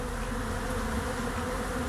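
Honey bees buzz steadily at a crowded hive during a heavy pollen flow, a dense continuous hum with no break, moderately loud and close, and no voices.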